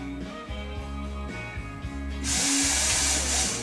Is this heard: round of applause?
no